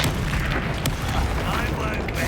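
Hogwarts Legacy Expelliarmus disarming spell firing in combat, a loud booming magical blast with a sharp crack near the middle, over a dense, continuous battle soundscape.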